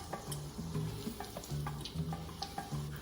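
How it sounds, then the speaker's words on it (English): Oil sizzles steadily as homemade tortillas fry into tostadas, with crackling pops and occasional stirring or scraping sounds close by. "now I'm taking those exact same tortillas and I'm turning them into tostadas by frying them"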